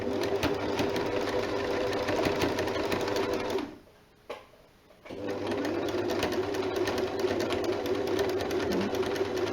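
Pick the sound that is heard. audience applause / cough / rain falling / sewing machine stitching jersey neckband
sewing machine stitching jersey neckband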